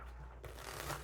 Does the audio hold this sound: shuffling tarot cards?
yes